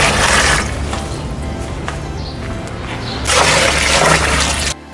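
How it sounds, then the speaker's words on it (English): Two liters of water pour steadily into a plastic bucket holding old computer CPU parts, a loud continuous rushing splash that eases slightly midway, surges again, then stops abruptly near the end. "Put 2 liters of water in a plastic bucket."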